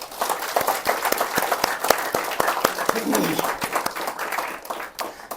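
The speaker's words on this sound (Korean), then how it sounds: "이분들께도 감사와 격려의 박수를 부탁드립니다." Church congregation applauding the instrumental worship team, a dense wash of many hands clapping with a steady crowd texture, moderately loud throughout.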